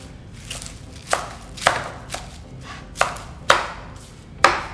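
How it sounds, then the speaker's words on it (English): Lettuce leaves chopped on a board for a leftovers salad, about nine crisp knife strikes at an unhurried, slightly uneven pace, close and clear with no talking. "I think I might just chop a little bit up."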